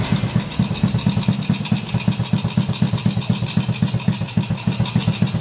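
A Honda Supra motorcycle engine with a basic fault that makes it smoke heavily runs at idle close by, a steady, even chugging pulse of rapid low thumps with no talk over it.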